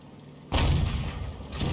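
Grille self-propelled gun firing an artillery shell in a tank video game, a sudden loud boom followed by a long rumbling tail and a second burst near the end.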